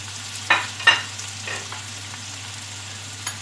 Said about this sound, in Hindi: थोड़ा सा ऑयल डाला है कढ़ाई में मैंने। अब इसमें प्याज डाल दूंगी, साथ ही इसमें हरी मिर्चें ऐड कर देंगे।